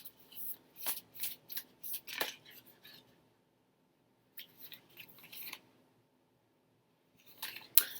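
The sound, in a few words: shuffling a tarot card deck to draw a card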